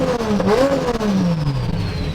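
Engine of a $200,000 left-hand-drive Toyota Supra revving up as the car pulls away, one rising, loud, close roar that climbs and then fades as it moves off.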